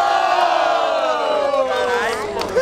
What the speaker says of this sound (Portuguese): Barulho pra quem gostou das rimas do Apolo